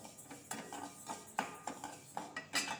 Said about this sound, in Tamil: கடாயில் கருப்பு எள் வந்து ஒரு கையளவு எடுத்துக்கிட்டு அதை நம்ம பொன்னிறமாக நல்லா வறுக்கணும்